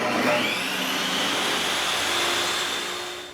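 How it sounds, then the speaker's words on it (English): A Ryobi 10-inch table saw runs on an AFERIY P280 2800W portable power station, spinning up with a rising whine into a loud, steady broadband roar that holds for several seconds and then begins to fade. "So let's see if it'll handle the Ryobi table saw"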